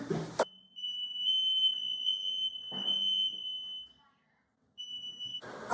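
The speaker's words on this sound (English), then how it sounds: "What just happened is that we set off the fire alarms." A smoke alarm shrieks with a piercing, steady high tone, broken by short pauses and a few bursts of noise, fairly close.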